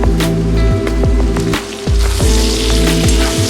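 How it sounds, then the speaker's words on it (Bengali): Thinly sliced eggplant slides into hot oil after potatoes, for a Bengali bhetki fish-head chochchori, setting off a loud, dense, continuous sizzle with a few sharp drops and pops over a tonal background melody. "হালকা লাল লাল করে ভাজা হয়ে গেছে, দিয়ে দেবো সরু সরু করে কেটে রাখা বেগুন"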